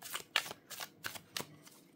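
A new tarot deck being shuffled by hand, giving several quick riffling bursts of card edges, close and clear, with short pauses between them and no talking.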